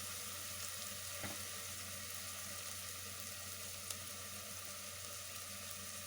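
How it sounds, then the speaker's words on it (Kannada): Coriander powder and spices frying in hot oil for a green gram gravy, a steady soft sizzle throughout with a faint clink partway through, no talking. "ಹೀಗೆ ಫ್ರೈ ಆಗ್ತಾ ಇರಲಿ."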